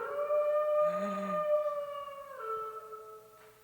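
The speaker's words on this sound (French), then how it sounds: "au loin, il entend les loups." Wolves howl in the distance on a calm night, long wavering cries that overlap as two or three voices rise, hold and fall together over about four seconds with nothing else audible.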